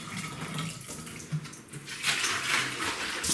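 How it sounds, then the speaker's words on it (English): Cold tap water pours into a large bathtub, a steady splashing rush with small bumps and clinks, close and fairly loud. "I'm just going to fill this with cold water."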